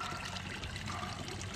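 Water running and trickling in a red-eared slider turtle pond, a soft continuous flow that stays faint and even throughout, with no talking.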